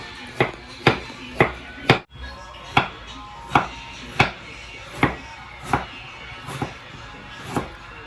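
A knife chops bamboo shoots on a board for adobong labong, about a dozen sharp, evenly spaced thuds at a steady moderate pace, close and clear, with one louder knock partway through and no talking.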